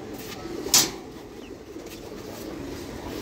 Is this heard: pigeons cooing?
yes